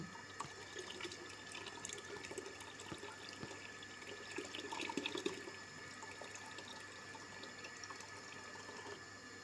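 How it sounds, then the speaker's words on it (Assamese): Water left over from soaked vegetable scraps and onion and garlic peels is poured out, a faint, steady trickle and splash lasting the whole stretch, with no voices. "এতিয়া এই পানীখিনি মই এতিয়া ইয়াত দি দিম"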